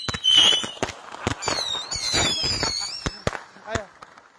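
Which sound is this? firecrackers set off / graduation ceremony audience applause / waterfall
firecrackers set off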